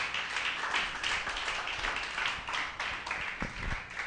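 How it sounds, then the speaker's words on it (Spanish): A church congregation applauds with steady, dense clapping from many hands, sustained and fairly near throughout. "Denle un fuerte aplauso al Señor."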